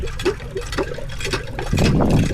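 Water pours and splashes in an uneven stream while bitter gourd plants on a trellis are watered by hand, growing fuller and louder toward the end, close by with no talking.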